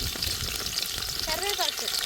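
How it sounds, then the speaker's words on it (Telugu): Chopped red onion pieces drop into hot tempering oil with mustard seeds for a Nellore-style fish curry, a loud steady sizzle and crackle with brief stirring. "తరిగి పెట్టుకున్న ఎర్రగడ్డ ముక్క వేస్తున్నా."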